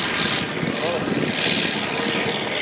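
A Belarus tractor engine roars loud and continuous at a tractor pulling competition, with a broad steady drone and some voice in the background.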